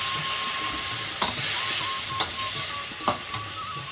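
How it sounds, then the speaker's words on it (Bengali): Cumin and green chili paste frying in a pan with turmeric and already-fried vegetables for a Bengali thali, giving a steady close sizzle with a few brief stirring knocks. "এবার আমি জিরে আর কাঁচা লঙ্কা বাটা"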